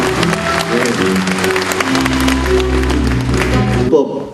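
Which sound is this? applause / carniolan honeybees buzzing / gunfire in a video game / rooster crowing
applause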